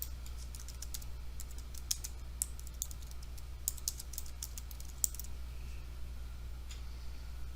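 A folder name is typed on a computer keyboard in quick, irregular bursts of crisp key clicks, close and clear, with the tapping thinning toward the end and no voices.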